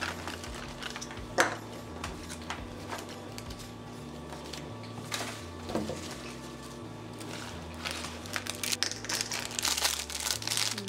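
A small Make It Mini Verse food package is opened with crinkling plastic, light clicks and rustling handling noises, close and fairly quiet, over a faint steady low background tone.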